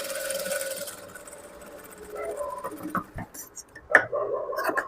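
A sewing machine stitches a shape belt in short, faint mechanical bursts with light clicks and rattles, quiet and intermittent in the middle of a soft background hum.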